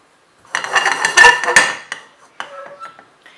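Chana dal, coriander seeds and dry red chilies being dry roasted in a pan for hotel-style tiffin sambar powder, with a burst of loud clattering, rattling and scraping of seeds against metal, then fainter scattered clinks.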